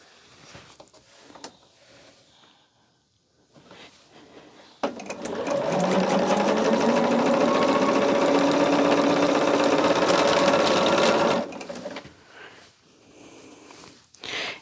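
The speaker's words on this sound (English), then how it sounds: "I'm just going to sew as many as I can." A sewing machine stitches small four-patch quilt block pieces in a steady, loud mechanical run for several seconds, with quieter handling sounds before and after.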